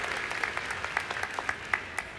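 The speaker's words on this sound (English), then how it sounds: "Give yourself a round of applause." Audience applause fills a university commencement hall, a steady patter of many hands with individual claps popping out, fairly faint and distant throughout.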